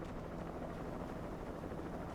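A helicopter in the video game Alan Sleep Remastered gives a steady, faint whirring drone with a rapid rotor flutter, continuous throughout with no talk.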